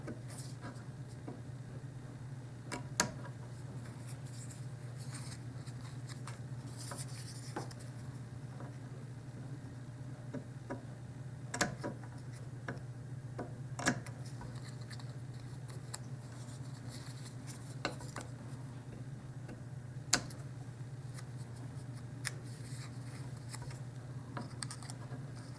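Scissors cutting paper for a dollhouse miniature Valentine candy box, a series of sparse, sharp snips spread over a steady low hum, close and quiet, with no talking.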